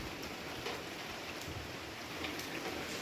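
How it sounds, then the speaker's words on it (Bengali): Steady rain falls outside during a wet morning, a dense continuous patter on surfaces with an even, moderately quiet hiss and no voices. "দেখো বাইরে কীভাবে বৃষ্টি পড়ছে"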